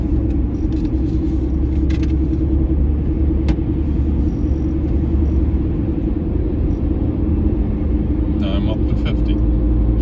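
A car accelerating across the Verrazzano Bridge in Brooklyn, New York, its steady low road rumble and engine drone filling the cabin continuously, with a few faint ticks and clicks near the end.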